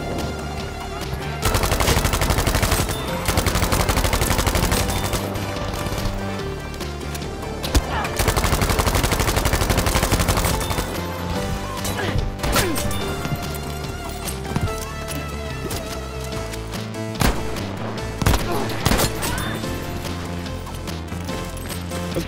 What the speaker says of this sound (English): I can't even hit anybody with a shotgun